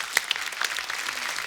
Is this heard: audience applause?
yes